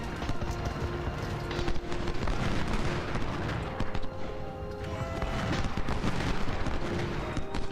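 Cannon fire and musketry from a Civil War battle in the strategy game Ultimate General at Kettle Run, heard as a dense, continuous rumble of shots and booms at a steady loud level, with no voices.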